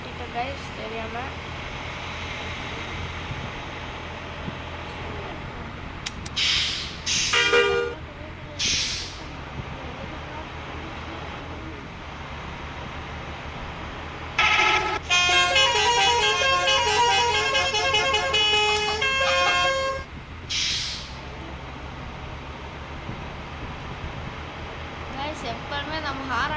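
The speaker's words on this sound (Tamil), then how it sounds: "எப்பவுமே நம்ம ஹாரன் அடிக்கும்போது பஸ்ஸு மட்டும் மூவே ஆகாது." A bus horn honks in several short blasts, then one long sustained blare, over a steady engine rumble with hissing air brakes, in the video game Bus Simulator Indonesia.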